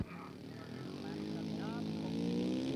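A radio-controlled scale model propeller aircraft lands, its engine drone steady and gradually growing louder and nearer, with no voices.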